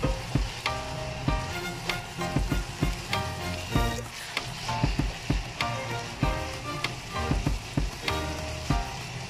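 Ground pork giniling fries in a pan for a home-cooked lunch, sizzling loudly and steadily with frequent sharp crackles and pops close by, with no talking.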